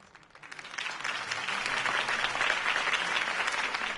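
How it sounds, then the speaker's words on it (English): Applause from a large crowd after a campaign speech for Harvey Dent, swelling from quiet into a dense, sustained wash of many hands clapping that stays steady and fairly distant. "could have heard that applause"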